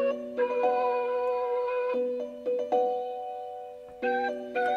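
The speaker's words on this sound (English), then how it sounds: "Just a flute preset, nothing crazy." Mellotron flute preset in FL Studio playing a slow, sustained melody of layered held notes with a few brief changes, clear and moderately loud with no other sounds.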